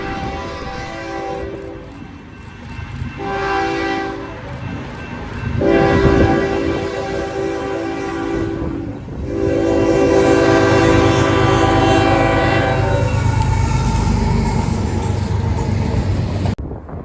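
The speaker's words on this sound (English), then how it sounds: "here is the NSCSH, this time with a Canadian National Tier 4 depot leading and a recently rebuilt CSX C44 ACF." A freight train led by a Canadian National Tier 4 locomotive with a rebuilt CSX C44 trailing blasts its horn in long loud sustained tones, with engine rumble and rolling wagons throughout.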